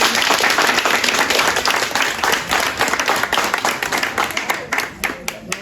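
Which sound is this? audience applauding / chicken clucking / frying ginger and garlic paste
audience applauding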